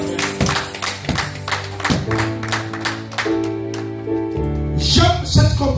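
A church congregation claps to acclaim the word of God, rhythmic claps falling with sustained musical tones in the background, the clapping growing denser near the end.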